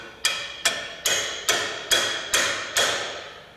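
A hammer staking clutch step bolts on a Mahindra 8560 tractor strikes seven sharp, evenly spaced metallic blows close up, each ringing briefly before the next.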